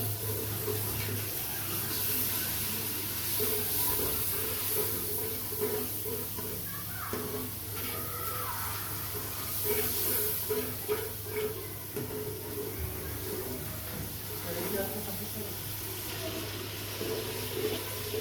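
Spices frying for khichuri in a pot give a steady, soft sizzling hiss that carries on quietly throughout with no voices.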